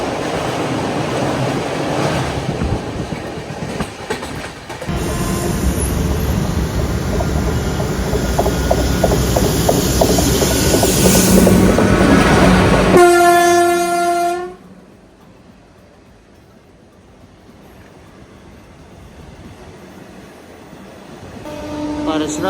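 Gorakhpur express train of North Eastern Railway running loudly with steady rail rumble and clatter, then a long blaring multi-tone horn blast near the middle before the noise drops to a quieter interior hum.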